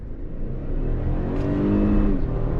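A 2022 Toyota Tundra SR5 pickup accelerates under throttle, its engine note a steady rising drone heard from inside the cab, growing slightly louder over a few seconds with no talk.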